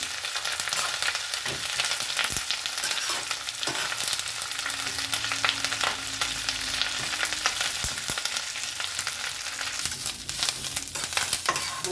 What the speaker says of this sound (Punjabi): ਲਓ ਜੀ ਆਪਾਂ ਸਾਰਾ ਕੜੀ ਪੱਤਾ ਪਾ ਦਾਂਗੇ ਤੇ ਇਹ ਹੁਣ ਆਪਾਂ ਨੂੰ ਪੁੱਲ ਲਾਂਗੇ